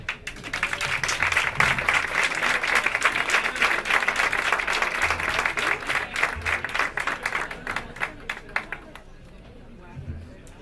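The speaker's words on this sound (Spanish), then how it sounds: "Así que un aplauso para ella." Bar audience at a popular science talk applauds to welcome a speaker, dense clapping that thins into scattered claps and fades out, with faint voices underneath.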